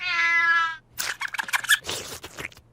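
Cartoon creature that is part cat, part mouse, giving a long, tonal, drawn-out meow, then a jumble of quick squeaky chattering vocal noises in an animated comedy scene.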